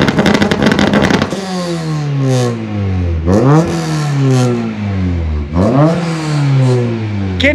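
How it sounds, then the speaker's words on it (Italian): A Honda Integra Type R DC2 with a decat Magnaflow sport exhaust revs hard and loud at close range, blipping up and falling back in three strong, rising bursts after a short rattling idle. "Andiamo a sentire un po' il sound del nuovo scarico."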